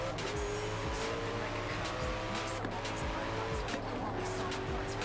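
A car pushed at full throttle in Forza Horizon 4, its engine roaring loud and close with repeated gear-shift dips and tire squeal, and someone speaks over it.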